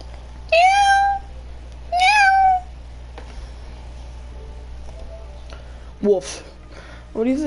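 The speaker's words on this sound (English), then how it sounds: "My cat is looking at me." A pet cat meows twice, loud and close, in quick succession, followed later by a few softer, shorter mews over a steady low hum.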